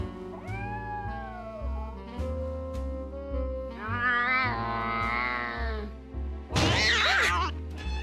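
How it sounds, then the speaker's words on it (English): Cat in a Nancy Drew mystery video game yowls in several drawn-out, unhappy meows over background game music, ending in a sharp crash-like burst. "That cat doesn't sound too happy."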